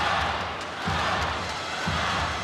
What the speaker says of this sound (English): And the crowd is shouting out.